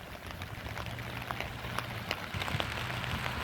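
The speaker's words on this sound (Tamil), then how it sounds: "இப்போ மழை வேறு எப்படி இருக்கும், குளிர் பார்த்துக்கோங்க" Rain patters steadily on surfaces on a cold 2–3 degree morning near a school ground in Canada, a soft continuous hiss with occasional sharper drips, fairly faint and without voices.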